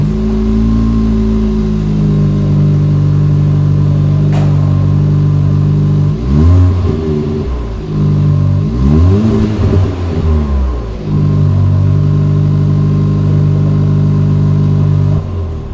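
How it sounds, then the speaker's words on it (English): A 2022 Kia Forte's sport-tuned exhaust: the engine idles with a deep burble, then revs sharply twice in quick bursts, the exhaust note rising and falling raspy and close, before settling back. "the sport tuned system basically has a better nice or better sounding exhaust"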